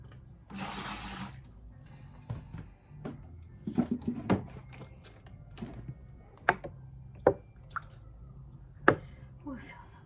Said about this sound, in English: let's rinse again. This time we have to do a good rinse.